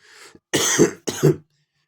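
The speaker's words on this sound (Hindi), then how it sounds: "खांसी हो रही है" Two harsh, close coughs in quick succession, preceded by a faint throat-clearing breath; quiet otherwise.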